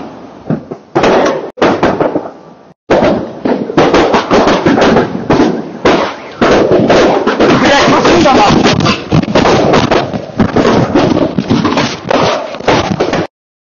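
Rapid, dense series of loud blasts and crackling explosions from an ammunition depot struck by drones, continuing almost without pause for over ten seconds.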